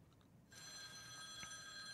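A classic telephone bell rings in a Devil May Cry intro, a bright metallic trill starting abruptly and sustaining loudly to the end over a quiet background.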